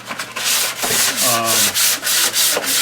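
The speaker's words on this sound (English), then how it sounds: "sandpaper you can get at any hardware store, any Lowe's, and just take and rough the surface" Close, loud rhythmic scrubbing as 220 grit sandpaper is rubbed by hand back and forth over a plastic litter pan surface, with steady strokes and brief breaks between passes.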